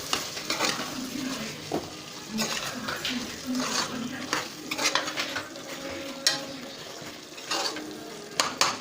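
Chicken simmering with fresh cream in a pan for butter chicken, with steady sizzling and bubbling plus occasional scrapes and clinks of a stirring utensil against the pan, close up.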